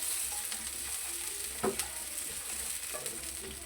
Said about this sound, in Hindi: अब मैं करूँगा इसको हल्का सा फ्राई,